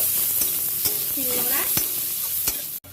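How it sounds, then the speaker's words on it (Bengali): Steady sizzle of onions frying in a pan, with occasional clicks and scrapes of a spoon stirring, ending in a sharp knock. "পেঁয়াজটা হালকা করে ভেজে নেব"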